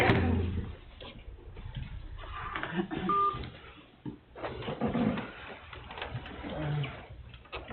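Telephone dialing tones sound over a conference line at a town public hearing, brief beeps and a short tone among faint room noise and murmuring, with a bird-like coo in the background.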